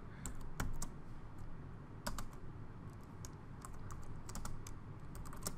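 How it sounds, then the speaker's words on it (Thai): Typing on a computer keyboard while entering DNS zone configuration, with close, crisp key clicks coming in irregular bursts and short pauses over a quiet background. "เวลาเราพิมพ์โซนนะครับ"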